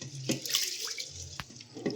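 Two glasses of basmati rice being rinsed in water for tomato rice, with a steady swishing and splashing that rises and falls, plus a few sharper splashes, close and alone.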